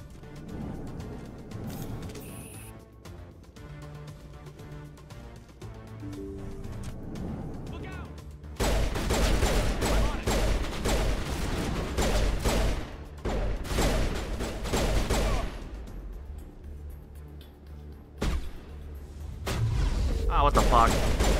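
Anti-personnel rounds fired in the Mass Effect video game, sounding as loud, dense bursts of gunfire with booms from about the nine-second mark, after a quieter stretch, with someone talking over parts of it.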